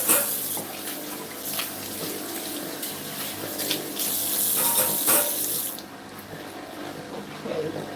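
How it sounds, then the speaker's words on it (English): Water runs from a kitchen tap as bowls are rinsed under it, a steady close rushing splash that eases off near the end. "I'll rinse out these bowls as well while we get ready."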